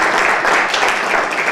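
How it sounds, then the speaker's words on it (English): Loud, continuous applause from a conference audience at an inventor boot camp, a dense steady wash of many hands clapping with no talk over it. "let's give a round of applause to Tom Franklin and to Robert Maynard"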